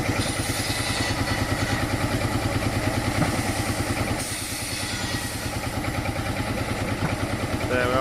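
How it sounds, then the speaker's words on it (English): A belt-driven saw cuts logs for firewood, powered by a Marshall tractor at an agricultural show. The tractor engine thumps steadily and loudly nearby in a rapid, even beat, with clattering over it and a brief dip midway. "We're cutting wood over there with another saw, which is powered by the tractor, the Marshall tractor"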